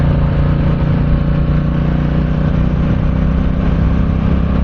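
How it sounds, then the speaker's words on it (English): A 2022 Triumph Bonneville T120 motorcycle engine running with a steady, loud, continuous drone and no variation in pitch, recorded on a test ride with no voices. "I hope that you guys can hear that engine purr, because it has a very nice sound."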